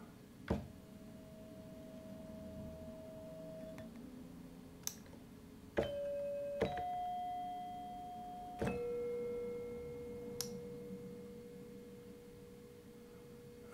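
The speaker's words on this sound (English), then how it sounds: "That's a different bell tone." Soft sustained bell-like tones from a granular synth patch in Bitwig change pitch several times, each change marked by a faint click, with long held notes at low volume and no talk.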